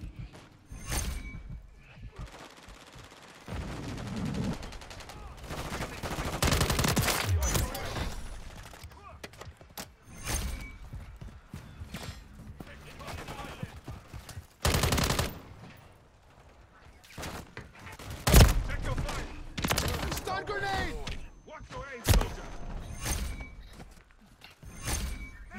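Gunfire in the Call of Duty video game comes in scattered bursts and single sharp cracks across a busy battle mix, with clattering mechanical noises and voices calling out between the shots.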